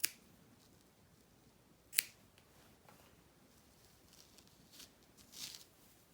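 Scissors snip crochet yarn on a sun and cloud dish scrubber, two sharp isolated clicks a couple of seconds apart, faint and close, with a softer rustle afterward.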